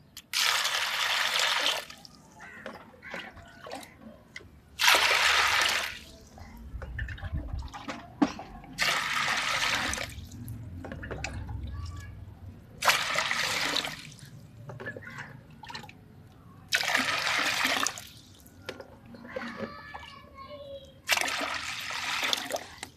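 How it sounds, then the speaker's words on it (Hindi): Water pours into a pot of washed red kidney beans (lobia) in a home kitchen, coming in repeated splashing bursts every few seconds, close and fairly loud, with quieter gaps between pours. "अभी इसमें मैं पानी ऐड करूँगी"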